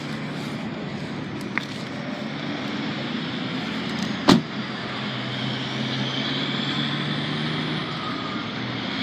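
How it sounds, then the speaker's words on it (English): Truck stop with parked trucks and other vehicles, a steady broad engine rumble and road noise with one sharp thump in the middle. "I'm at this creepy truck stop right now"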